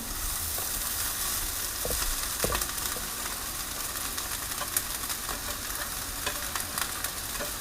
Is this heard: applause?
no